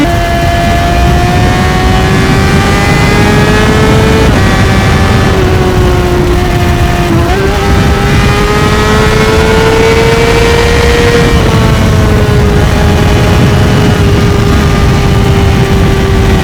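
A Honda CBR600RR motorcycle engine howls loudly and continuously while riding twisty roads, its pitch rising and dipping through throttle changes and shifts, with heavy wind rush underneath.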